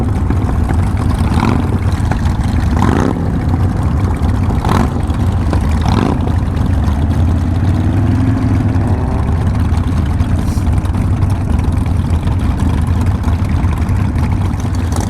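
Harley-Davidson Sportster motorcycles run together at a group ride, a loud, steady low engine rumble with a few sharp revs and rising throttle blips, close by and without talk.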